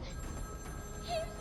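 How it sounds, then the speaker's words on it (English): A telephone rings inside Batman: Arkham City, a short faint trilling tone rising over a low game rumble, with no voices. "that's the phone ringing"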